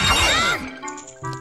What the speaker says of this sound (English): Smashing pots.